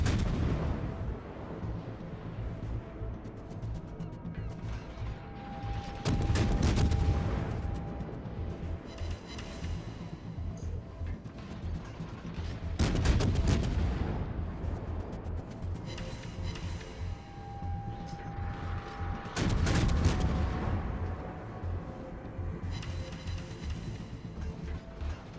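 Naval gunfire from a Cleveland cruiser in World of Warships, heavy booming salvos recurring about every seven seconds, each a loud broad blast with rumbling decay over steady engine and ambient hum.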